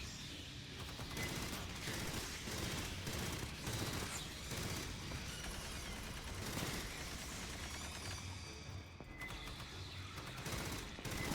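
A sentry turret in the sci-fi shooter game Aliens Fireteam Elite fires continuous rapid bursts at swarming aliens, a dense, relentless barrage mixed with screeches and game effects, sustained without pause.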